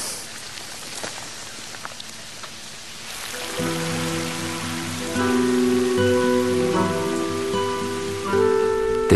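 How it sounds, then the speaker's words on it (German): Heavy rain pours steadily on a Black Forest farmhouse in an unusually wet September, a dense hiss with scattered drops, later joined by sustained tonal sounds; no voices. "Der Regen hört und hört nicht auf."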